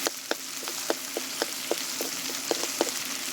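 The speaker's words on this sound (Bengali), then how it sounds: "রসুন থেতো করে রেখেছি তেলে দিয়ে দিচ্ছি একটু নেড়ে চেড়ে নিচ্ছি এভাবে" Crushed garlic frying in mustard oil as it is stirred, a steady close sizzle broken by a dozen sharp crackling pops spaced irregularly through the few seconds, with no talk.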